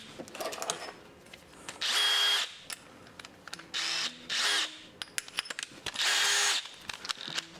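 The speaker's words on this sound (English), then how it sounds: "A bit of engine oil on the said drill bit, and we're gonna send it." A power drill, its bit oiled with engine oil, bores through an intercooler bracket in four loud, close bursts of whining and grinding, separated by short pauses full of small clicks and ratcheting handling noises.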